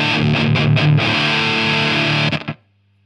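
An electric guitar through a Thermion Gasoline distortion pedal in classic mode with gain around eleven o'clock, giving loud, thick, saturated sustained chords with rhythmic accents that ring out and then cut off abruptly to silence.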